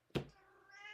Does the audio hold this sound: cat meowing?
yes